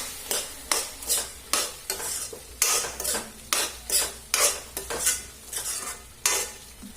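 A spoon scrapes rhythmically through onion and tomato curry frying in a pan, about a dozen quick strokes at a steady pace over a soft continuous sizzle, close and clear with no talk.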